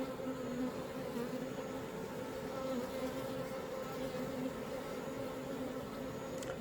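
Honeybees gathering at the hive entrance on a wooden board hum in a dense, steady buzz from many insects, close and continuous at moderate volume, with no talking.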